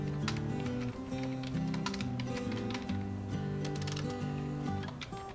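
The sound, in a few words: typing on a computer keyboard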